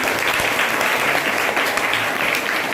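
Students applaud at a school welcome program, a dense, steady wash of many hands clapping at close range that holds evenly for the whole stretch with no talk over it.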